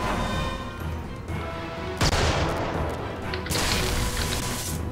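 A grenade explodes in the video game Magicka, a sudden loud crashing boom that breaks through ongoing game noise, followed by a second burst of rumbling blast shortly after.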